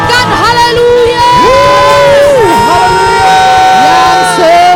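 A church congregation at an Indonesian GBI worship service shouts hallelujah: loud, overlapping voices rise and fall in long, sustained cries over a continuous backing.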